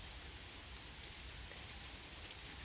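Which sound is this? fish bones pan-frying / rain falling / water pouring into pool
rain falling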